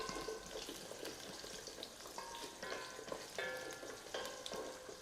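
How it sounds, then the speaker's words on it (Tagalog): Potato and carrot pieces sizzle and spatter in hot oil in a pan, giving a steady, close frying hiss with small crackles and pops throughout and no voices. "Pagsamahin lang natin yung ating patatas at carrots sa mainit na kawali. Ayan. Tumatalsik-talsik pa."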